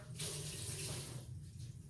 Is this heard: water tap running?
yes